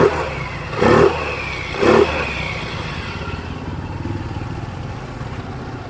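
A Yamaha Mio i 125 scooter, its CVT drive side just reassembled, revs sharply twice in quick succession, each burst close and loud, then settles into a steady idle hum.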